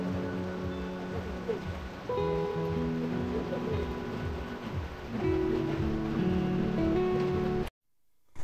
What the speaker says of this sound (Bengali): বৃষ্টি এত এইভাবে আসবে, পুরা একদম গোসল করে ফেলছে যা আছে